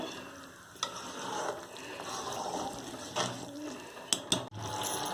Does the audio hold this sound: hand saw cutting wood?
no